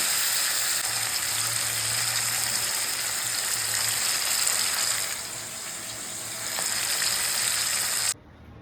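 Chicken sizzling in a pan on the stove, a continuous close crackling fry that softens briefly midway and then cuts off abruptly at the end, with no talking.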